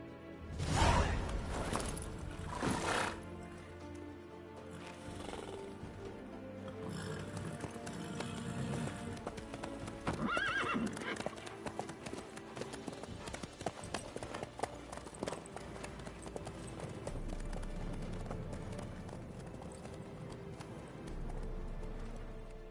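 A horse in the video game The Witcher 3 gallops, its hooves clip-clopping in a steady, continuous rhythm under in-game ambience and wind-like swooshes.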